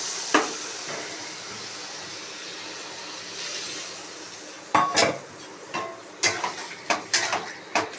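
Water goes into a pan of spice paste fried with pointed gourd, giving a steady soft hiss of simmering, then a series of close metallic spoon clatters against the pan.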